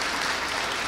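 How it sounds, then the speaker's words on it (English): Audience applause at a county arts and culture grant awards event, a dense, even burst of clapping from a gathered crowd, lasting under a second. "let's give them a round of applause"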